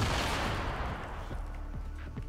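Grenade blasts in Fortnite, a loud broadband burst that fades into a rumbling tail, followed by a few fainter thuds and impacts from the game.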